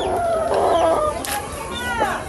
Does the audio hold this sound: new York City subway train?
no